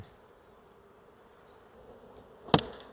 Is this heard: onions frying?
no